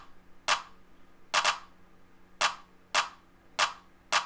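Programmed hip-hop claps in a simple beat, sharp and dry, falling in an uneven pattern of single and doubled hits over a faint low backing.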